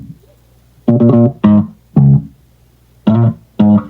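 Bass guitar notes in an indie dance track, played in five short sustained bursts with gaps between them, loud and close, with no other parts sounding.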